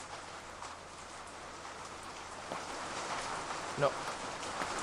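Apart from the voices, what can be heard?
rain in a video game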